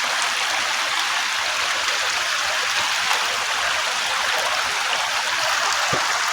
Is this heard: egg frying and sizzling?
no